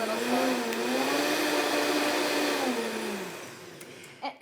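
A kitchen blender runs at low speed grinding chunky ingredients, a steady whirring drone with a slowly shifting pitch that tapers off near the end, close and fairly loud.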